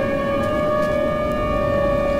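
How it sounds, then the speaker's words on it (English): A tornado siren in Minecraft wails as a steady, unbroken tone that stays loud and close from start to finish, with no voices over it. "At least I know my siren works."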